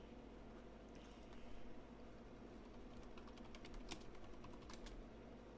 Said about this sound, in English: Typing breaking news.